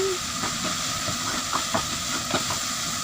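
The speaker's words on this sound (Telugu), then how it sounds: "మూత పెట్టినప్పుడు దానిలో వాటర్ ఆవిరి వస్తుంది కదా," Steady, loud hiss of steam filling a covered pot of cauliflower egg curry, with a few soft clicks and taps scattered through it; no voices.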